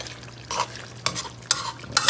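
Ketchup being stirred into Jamaican oxtail gravy in a hot pot, with four short scraping, sizzling strokes spaced about half a second apart over a low steady simmer, close and fairly quiet.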